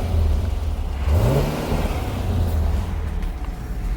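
A Chevrolet Camaro 2SS V8 engine idles with a low rumble, then revs once, rising and dropping back to a steady idle, loud and close outdoors in snowy cold.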